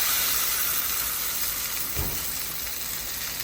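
Birria tacos sizzle steadily on a hot cooking surface, a loud, even hiss with a faint low thump near the middle.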